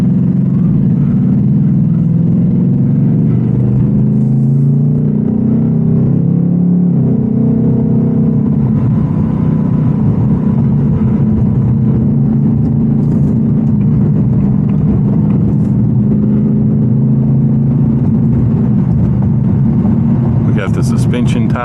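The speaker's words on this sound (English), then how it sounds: "The engine's revved up, the exhaust is revved up," A Ford Mustang Dark Horse's 500 hp V8 drones low and steady from inside the cabin while driving on the road, its engine and exhaust rumble rising slightly in pitch at one point, under continuous talk.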